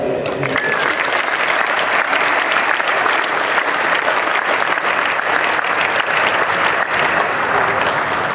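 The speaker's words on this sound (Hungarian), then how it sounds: "azt gondolom, hogy egy óriási taps illeti" Sustained, dense applause from a large indoor crowd at a tennis club's Christmas party, loud and even throughout with no pauses.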